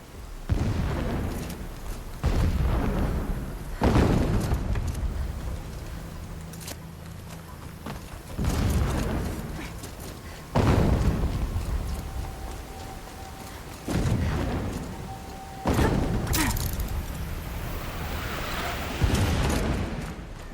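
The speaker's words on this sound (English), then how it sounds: "Explosions in the distance." Distant explosions rumble in the video game Horizon Zero Dawn, a series of deep booms arriving every few seconds, each a sudden low burst that fades, with game ambience and occasional footsteps between them.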